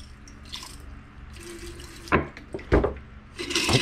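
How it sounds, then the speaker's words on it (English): Distilled water rinses refined gold in a container, with trickling pours and sharp splashy bursts between quieter stretches, close to the microphone. "Now what we're going to do is rinse the gold off with distilled water."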